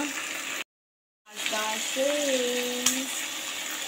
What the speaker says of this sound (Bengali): আবার ভাজছি সুন্দর করে পেঁয়াজগুলো